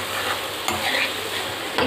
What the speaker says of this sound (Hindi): एक बार सब्जी चला लेते हैं।